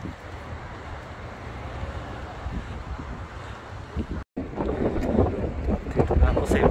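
Strong wind buffets a microphone at Oryukdo Skywalk, a coastal lookout in Busan, South Korea, on a dry day. Loud, rough, broadband rushing continues throughout, cuts out for a moment, then returns stronger and gustier.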